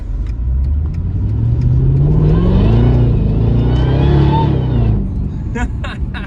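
A Mercedes E55 AMG accelerates hard, its engine note climbing and rising loud and close, then easing off before a few sharp bumps near the end; people speak over part of it.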